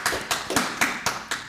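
A handful of sparse, evenly spaced handclaps from a small audience at a round-table discussion on higher education, about six crisp slaps in a slow rhythm, moderately close and fairly quiet.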